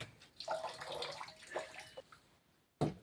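Water splashes and trickles from a freshly broken coconut offered during a Mallanna Bonalu festival ritual, in short close bursts of pouring over about three seconds, ending with a sharp louder splash.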